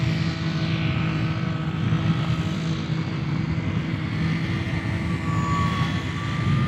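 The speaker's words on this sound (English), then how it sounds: "you can even hear the motor's not really doing much. You can hear the stabilizing is working hard. You can hear the servos going." Small Radiolink D460 beginner RC airplane flying in wind outdoors, a steady moderate motor drone with a faint high whine throughout, no talking.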